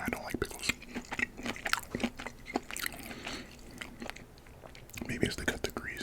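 Close-miked mukbang chewing and biting into Dave's Hot Chicken nuggets, slider and tender, with wet crunches and smacking bursts at irregular intervals, and soft speech in places between bites.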